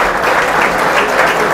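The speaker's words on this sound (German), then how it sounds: "Und ich denke, es gibt noch einen kleinen Applaus, oder?" Sustained applause from a crowd of football fans at a fan talk event after a match, dense and even clapping throughout with no voices.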